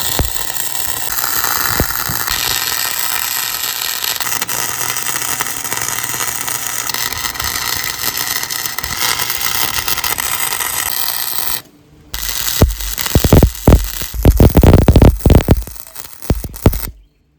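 Welding a bike rack mount onto a camper: a loud, steady crackling buzz runs for about twelve seconds, then breaks off and returns as several shorter, irregular bursts.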